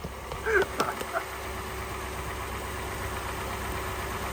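Acura ZDX engine idling after a timing belt, water pump and pulley replacement, a steady low hum with a few brief squeaky clicks near the start, then even and smooth.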